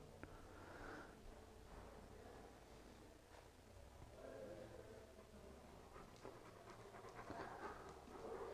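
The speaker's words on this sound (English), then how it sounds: "See, the panting is less." A sensitive chocolate Labrador pants quietly nearby, a rapid rhythmic breathing that continues faintly across the whole stretch with low room noise underneath.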